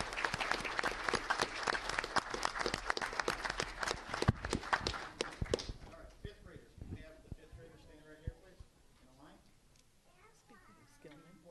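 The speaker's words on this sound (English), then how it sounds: "So please give a round of applause." Audience applause fills a village board meeting room in Carpentersville, Illinois, as students receive trophies. A dense burst of clapping lasts about six seconds, then fades into a quieter room with scattered claps and voices talking.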